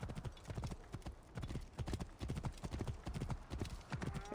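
Horse galloping in the video game Assassin's Creed Origins, a fast, steady clip-clop of hooves up close, with a voice briefly audible over it.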